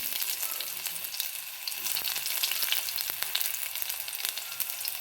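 Garlic sizzles steadily in hot oil with mustard seeds, a dense close-up crackle with faint stirring clicks and no voices.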